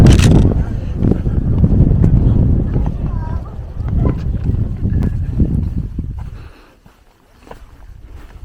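Horse hooves clip-clop in a steady rhythm on hard ground in the Pyrenees, with wind buffeting the microphone and the sound fading out toward the end.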